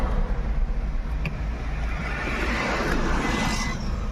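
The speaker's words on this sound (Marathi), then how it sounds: "ही त्यांची गाडी आहे" A car drives along a mountain ghat road, with a steady, loud engine and road rumble close by that holds evenly throughout.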